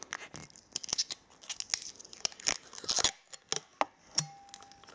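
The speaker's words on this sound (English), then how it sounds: "Blue film on the back to protect, and also Gemini Jets logo. It's just to protect the metal. I'm just gonna peel this off." Protective blue plastic film is peeled off the metal back of a Gemini Jets model stand, giving close, quiet crinkling and tearing snaps in uneven bursts with brief gaps between.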